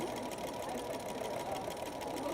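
A domestic sewing machine runs continuously at steady speed while free-motion stitching thread drawings on fabric, a close, even mechanical whirr with fast needle chatter and no talking.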